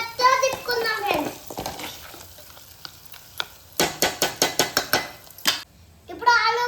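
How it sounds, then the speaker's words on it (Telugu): A spoon stirring mutton curry with garam masala and potatoes in a pot, a series of rhythmic scraping clinks with faint sizzle, with a voice talking at the start and end. "ఇప్పుడు గట్టిగా తిప్పుకుందాం ఫ్రెండ్స్."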